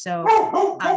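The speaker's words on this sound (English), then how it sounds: "sorry for my dog." A happy, excited pet dog barks indoors in quick yips right up close and loud, overlapping a person who is starting to speak.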